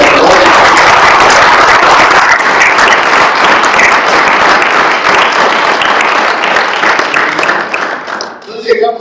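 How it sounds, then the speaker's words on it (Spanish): A church congregation claps loudly for a long stretch during a Spanish-language general service, a dense, steady roar of many hands that fades off near the end. "¿Le puede dar un aplauso fuerte al Rey de la Gloria?"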